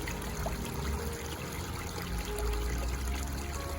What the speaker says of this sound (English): Really pleased with how this waterfall's run. Especially pleased with the one at the back here. That dribbles some really nicely up.